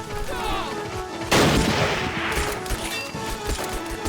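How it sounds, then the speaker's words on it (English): Machine-gun fire in the war game Army Men of War during a convoy ambush, a sudden loud burst of rapid shots cutting through ongoing battle noise, with scattered crashes and booms around it. "now the MG over there is opening fire"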